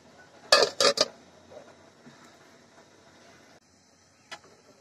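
A lid set over a pot of simmering beef: a quick cluster of two or three sharp metallic clanks near the start, then quiet with one faint clink later.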